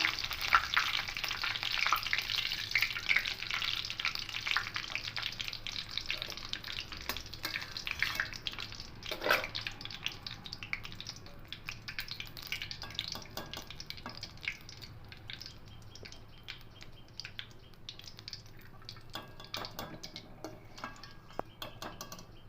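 Curry leaves frying in hot oil give a steady, soft crackling sizzle throughout, fairly close and quiet, with faint stirring ticks and no voices.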